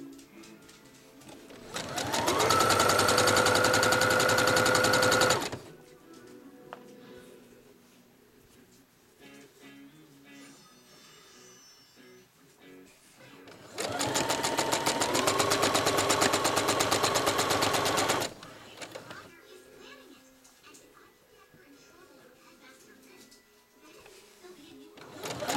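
A sewing machine stitches quilted tote bag fabric in two loud, steady bursts of rapid mechanical whirring, each lasting a few seconds. Quieter stretches between the bursts carry a voice.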